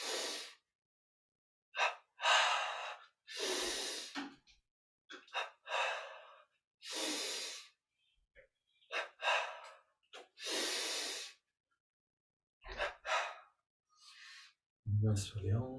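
Paired quick inhales and strong exhales from a double-inhale breathing exercise during a yoga and meditation session, repeated in an uneven rhythm, close and soft against silence.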